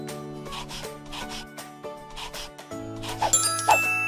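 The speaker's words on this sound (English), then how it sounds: "And now some serious scrubbing." Scrubbing a toy with a steady rubbing, rasping rhythm of repeated strokes, close and moderately loud, with a few higher tinkling bits near the end.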